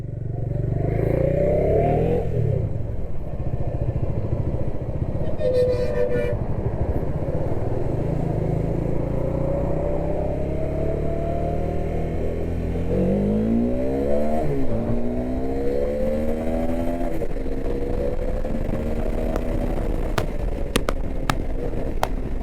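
A Bajaj Dominar 400 motorcycle pulls away, its single-cylinder engine revving loudly and rising through gears as it rides off, with clattering mechanical noise and no voices.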